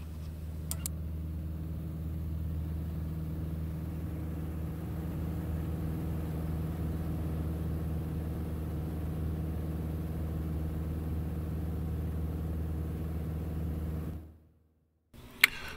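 A small airplane flies along a shoreline in the cabin, its piston engine droning as a steady low rumble that holds for a long stretch before cutting out abruptly near the end, with no talk.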